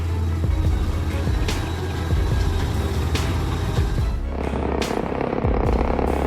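Off-road truck stacked high with tons of wood grinding down a steep slope, a heavy low engine drone with clanks and knocks from the chassis, close and loud throughout.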